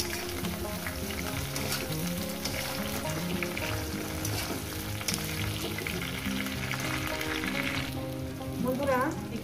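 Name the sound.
eggplant frying in a pan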